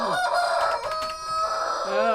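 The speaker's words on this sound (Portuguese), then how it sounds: "O Galo concordou, cara." A rooster crows loudly and close, one drawn-out call filling the whole moment with a strained rise and fall.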